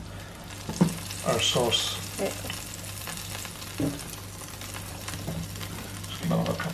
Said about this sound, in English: we're going to deglaze it and add some lemon juice to it